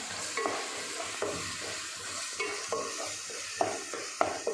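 Tomatoes stirred in a pan over low heat for a Rayalaseema uggani dish, with a steady soft sizzle and a spoon scraping the pan in repeated strokes, some sharper clinks, close and alone.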